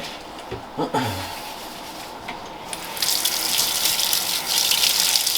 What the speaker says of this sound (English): I'm just going to wash my hands, Jared, so if I can just get to the sink.